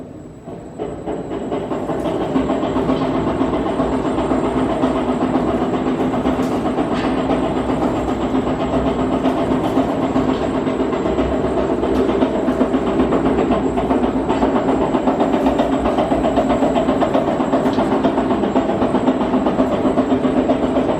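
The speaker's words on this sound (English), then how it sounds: "This is the Model VHJ Mixer Stainless Steel V Blender," A 20 cubic foot all stainless steel V blender mixer, Model VHJ, runs with a steady, loud mechanical rumble and hiss and a faint rhythmic clatter that holds constant throughout.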